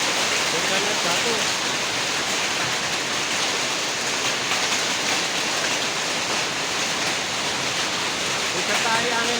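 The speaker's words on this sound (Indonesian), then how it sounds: "Disertai angin kencang, hujan lebat, banyak mobil yang berhenti." Hailstones and heavy rain pound down in a strong wind over a busy road in Wiyung, Surabaya, giving a loud, continuous broadband roar that lasts throughout.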